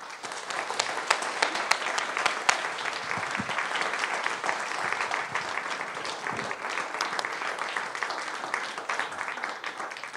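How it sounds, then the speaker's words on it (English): Audience at a history lecture welcoming two guests on stage with a warm, sustained round of applause, dense and even for about ten seconds, with distinct nearby claps popping out. "Please welcome them both on stage with a warm round of applause"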